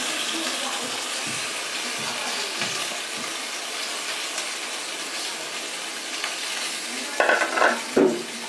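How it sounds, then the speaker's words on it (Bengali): Fried fish and fried potatoes stirred into sizzling cooked-down spices in a pan, a steady close frying hiss with scraping stirs throughout, ending in a couple of louder clattering strokes. "এখন আমি একটু সুন্দর করে নেড়ে চেড়ে দেবো।"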